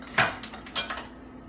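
Caraway non-stick pans being handled in a kitchen, with a few sharp metallic clinks and clatters in quick succession, close and clear, with no talk.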